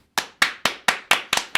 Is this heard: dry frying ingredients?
no